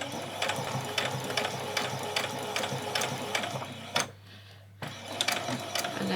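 A sewing machine stitches an apron in quick, even bursts of rhythmic mechanical clatter, falling silent briefly before the needle starts running again.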